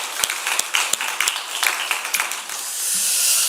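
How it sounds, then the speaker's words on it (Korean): A church congregation at an early-morning service claps in scattered, uneven bursts that gradually thin out, fading into a soft hiss at the end. "우리 하나님께 영광의 박수 올려드릴까요?"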